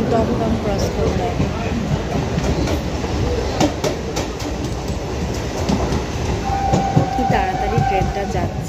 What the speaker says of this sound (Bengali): তাড়াতাড়ি ট্রেনটা যাচ্ছে